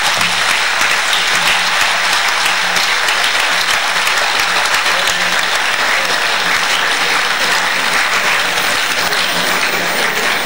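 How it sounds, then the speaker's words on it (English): Sustained, dense applause from a large audience at a graduation ceremony of a charitable institution, loud and steady throughout with no break, crowd clapping alone without speech. "give them your loudest applause as a sign of your deepest appreciation."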